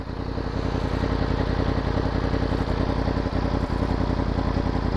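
A Yamaha FZ-10 (MT-10) fitted with a Yoshimura exhaust runs while being ridden, giving a loud, dense, continuous engine drone with steady rumble and mechanical clatter throughout.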